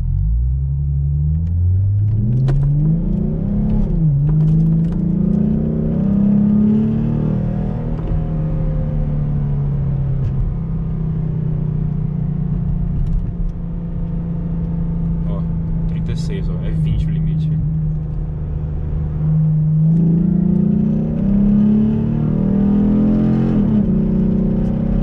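Ford Mustang with a newly fitted aftermarket exhaust pulling away from a traffic light, a deep loud rumble rising through the revs, easing to a steady drone, then climbing again near the end, heard from inside the car.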